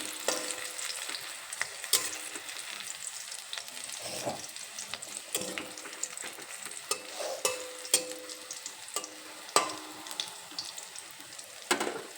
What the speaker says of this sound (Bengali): এই রসুনটা হালকা রং ধরা পর্যন্ত ভেজে নেব